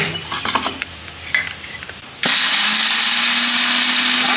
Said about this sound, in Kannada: ಸೇರಿಸಿ ಮಿಕ್ಸಿ ಮಾಡ್ಕೊಂಡ್ಬಿಡ್ಬೇಕು